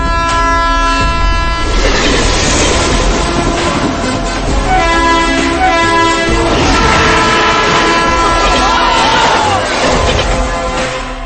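The Repalle passenger train rushes past on the track with a loud sustained blaring horn over heavy rumbling and clattering wheels, very close and overwhelming throughout.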